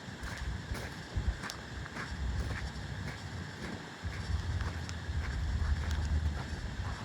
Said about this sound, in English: It's windy today, and with the wind there is a little coolness